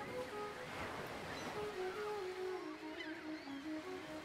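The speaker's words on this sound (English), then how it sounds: "Anjuna Beach, with its red laterite and unusual rock formation, is one of the most visited beaches in India." Ocean waves wash continuously at Anjuna Beach in Goa, a broad steady surf rush with faint tonal hum and some wind, no voices.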